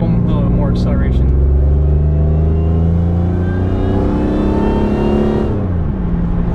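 A 2002 Pontiac Grand Prix GTP accelerates from inside the cabin, its engine droning loud and steady with a smooth, rising hum before the pitch drops near the end; a voice is briefly heard early on.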